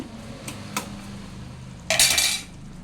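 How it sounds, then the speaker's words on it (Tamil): A spoon stirs mango and drumstick curry with salt in a metal pot, clinking softly a few times and then giving one brief loud scraping burst close by. "கொஞ்சம் உப்பு போட்டு இதை கிண்டி விடணும்"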